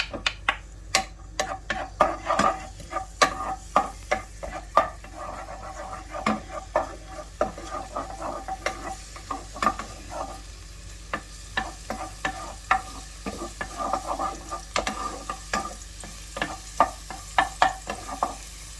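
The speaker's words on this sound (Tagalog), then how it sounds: "Let's fry first the garlic to extract the aroma." Minced garlic frying in a pan for a minced lamb and capsicum dish, with a soft steady sizzle under repeated sharp scraping and tapping strokes of stirring, close by and fairly quiet, with no talk.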